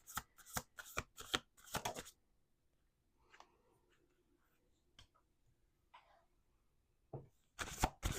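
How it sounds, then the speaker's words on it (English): A tarot deck is riffled and shuffled in quick bursts of crisp card flutters at the start, followed by a few soft taps and card placements in near silence, then another short shuffle at the end. "Last shuffle."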